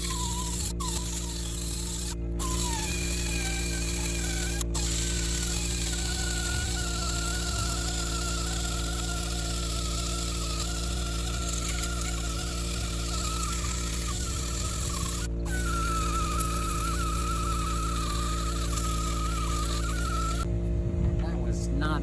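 A pneumatic finger sander run from an air compressor works over a chainsaw-carved great horned owl, giving a thin, wavering whine with a few brief cutoffs. It stays fairly quiet and continuous throughout.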